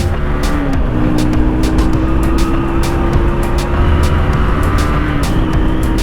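A Honda CBR150 motorcycle engine revving hard while accelerating, loud and close with a rising whine and sharp rhythmic pulses as it pulls through the gears, with no talking.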